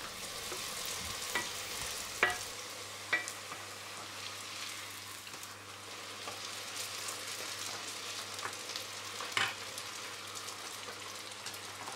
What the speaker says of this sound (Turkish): Evet, hamur kızartmamız da bu şekilde.